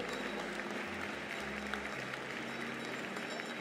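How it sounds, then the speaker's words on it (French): Applause for Guingamp high school students at the TNLA 2020 prize-giving, a fairly faint, even wash of crowd clapping with a low hum underneath. "Applaudissez-les."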